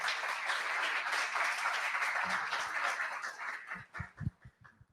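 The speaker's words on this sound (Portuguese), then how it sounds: "uma salva de palmas para eles, por favor" An audience at a corporate performance-management event claps warmly in a dense, even burst, which breaks up after a few seconds into scattered individual claps before dying away.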